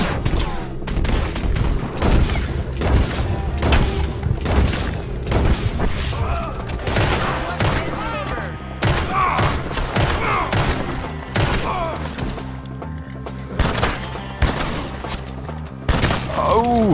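Gunfire from the video game Red Dead Redemption 2: dense, loud volleys of shots and booms over about seventeen seconds, with game voices and music underneath.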